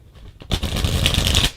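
A Halloween tarot card deck is shuffled up close, with a brief riffle of cards followed by a loud, steady rustling flutter of about a second that stops abruptly.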